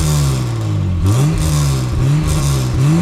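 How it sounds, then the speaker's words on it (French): A BMW E30 325i straight-six rises in a sustained rev near the mic, dips, then climbs twice more in quick throttle blips with a steady growl and no voices. "mets un petit coup de gaz. On va leur faire écouter le bruit de la petite 30 là"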